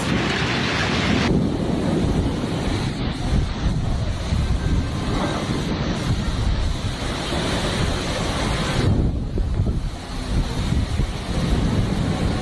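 Steady, loud roar of wind-driven rain with deep rumbling underneath during a powerful thunderstorm in China, a continuous stormy wash that barely eases throughout.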